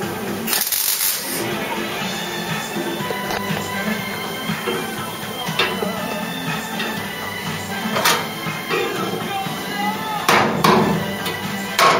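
Metallic hammer blows ring out sporadically on the bodywork of a Ford Cortina MK3 under restoration, a few sharp strikes spaced apart over a background of workshop noise and clatter.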